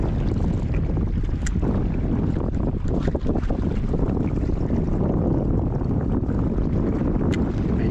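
Strong wind buffets the microphone on a fishing boat off Oman, a steady, loud broadband rumble and rush with gusty flutter that continues throughout, with no talking.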